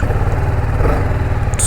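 A TVS Apache RR 310 motorcycle with a 310cc engine runs steadily and close, producing a continuous loud, even mid-pitched engine drone with no break.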